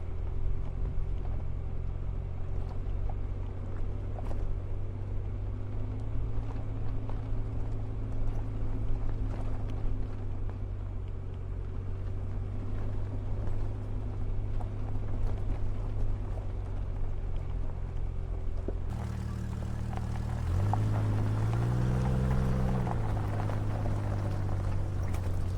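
A Jeep's steady engine drone rumbles throughout, and near the end the pitch rises and splashing water swells as it pushes through a creek crossing.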